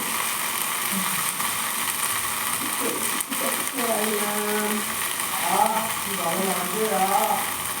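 A batter flatbread pizza fries in a pan with just a little oil, giving a soft, steady sizzle beneath someone talking throughout.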